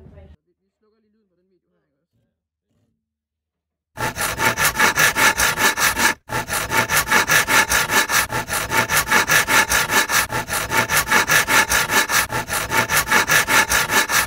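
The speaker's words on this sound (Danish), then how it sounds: "så nu skal vi have fat i vores fugtsvans værktøj, for så at kunne save ned igennem de to streger her" A handsaw cuts down through wood along marked lines with fast, even back-and-forth strokes, close and loud. A brief pause breaks the sawing, then it resumes.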